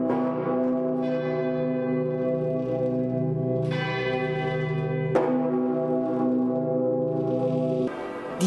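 A large cathedral bell swings and is struck by its clapper, deep resonant strokes ringing out every few seconds with long humming decay, loud and alone.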